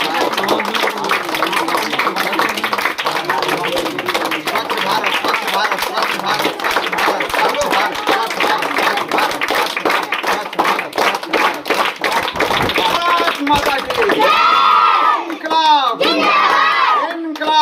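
An audience at an outdoor ceremony claps steadily as social workers are honoured, a loud, dense crowd applause that runs on and is joined by voices and a brief cheer toward the end.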